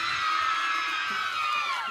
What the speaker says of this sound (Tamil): ஜீவாக்காக ஒரு பெரிய கைத்தட்டல் கொடுத்துடலாமா?